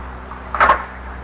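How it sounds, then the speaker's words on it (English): A single short knock on a wooden door, one brief muffled thud-cluster in an otherwise quiet room, close and moderately loud. "Knock on the door."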